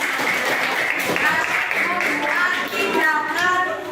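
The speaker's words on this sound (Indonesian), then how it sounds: "Tepuk tangan buat kita." A class of students claps in applause, a loose patter of hands running under children's and adults' chatter and voices throughout.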